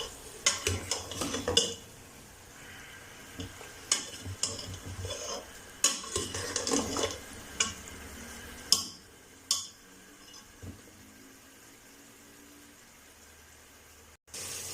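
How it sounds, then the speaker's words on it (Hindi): Mutton frying with ginger-garlic paste in a pot, heard as steady sizzling with repeated scrapes and clinks of a stirring spoon against the metal, close and without talk. "अच्छी तरह इसको फ्राई करेंगे लहसुन के पेस्ट के साथ गोश्त को"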